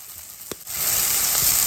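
Tomatoes fry in a pan with a steady bright sizzle that swells after a brief quieter moment with a couple of small clinks.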